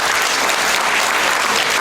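Loud, dense applause from an audience at an orchestra concert in the Rohan Center, a steady wash of many hands clapping together throughout, with no voices over it.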